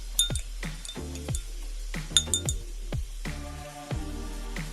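A spoon stirs liquid in a glass of water, giving a series of bright clinks and taps against the glass at an uneven rhythm, close and fairly quiet, with no talking.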